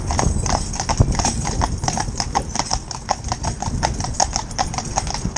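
A black Gelderlander horse's hooves clip-clop in a steady, even rhythm close by, continuing throughout without any voices.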